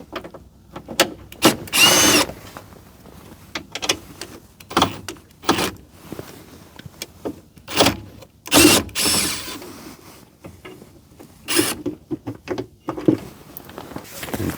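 A power drill whirs in short bursts as it backs screws out of the gauge cluster on a 2005 GMC Topkick. The repeated high-pitched motor spurts sound close, with small clicks and handling noises between them and no clear talking.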